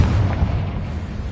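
Confringo blasting spell going off in the video game Hogwarts Legacy: a deep, rumbling explosive boom that sustains heavily across the short moment, with no talk over it.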